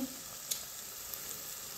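Dried fish masala frying in a pan with chilli powder stirred in, a steady soft sizzle with a couple of faint clinks, close and alone.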